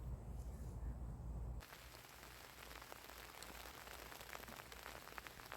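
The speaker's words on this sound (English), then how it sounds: "And just like that, it's raining." Rain begins falling on a late-summer flower garden; after a brief rumbling opening, a soft, steady hiss of drops patters across the plants and ground, faint but continuous to the end.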